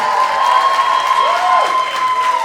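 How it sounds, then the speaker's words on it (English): Theater audience at a live comedy show claps and cheers in a steady, full wash of applause as the accompanist is brought onstage, with a sustained tone running through it. "Please, big round of applause."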